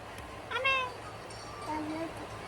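A pet cat meows twice at close range, one rising cry and then a softer shorter one, with quiet household background.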